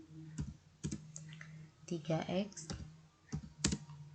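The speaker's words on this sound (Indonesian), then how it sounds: "Di sini kita ketikkan soalnya yang tadi" Keys on a computer keyboard are tapped in scattered clicks and short bursts, fairly close, alongside a brief stretch of talking.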